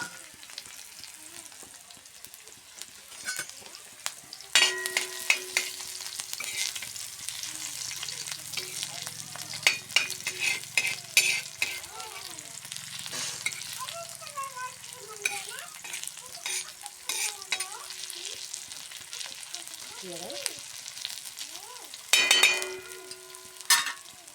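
Garlic and onion fry on an iron griddle with a steady close sizzle, broken by occasional scrapes and clicks of stirring over about twenty-four seconds, with no one speaking.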